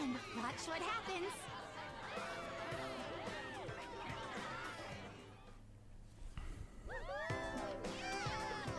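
A cat meows in the Persona 5 Royal casino, with faint mews and chirps amid crowd chatter and talking voices.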